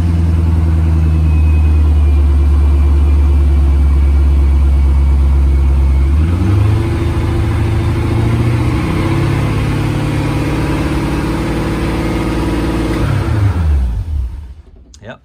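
Spec Corvette race car engine revved steadily around 2,000 to 3,000 RPM, loud and close, its pitch shifting a few times before the engine is cut by the master switch and dies away into near silence.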